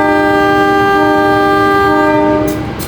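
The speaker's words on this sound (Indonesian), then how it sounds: "Persiapan berangkat dari jalur 4 kereta api komuter Indo yang aku naiki." A CC 203 locomotive hauling the KA Commuter Indo train sounds a loud, sustained multi-tone horn blast while preparing to depart, ending after nearly three seconds amid station background noise.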